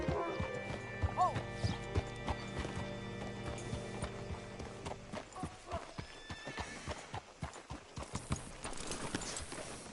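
In the Red Dead Redemption 2 video game, a horse's hooves clip-clop in a steady, quickening rhythm and a whinny rises early on, close and clear over a low background hum.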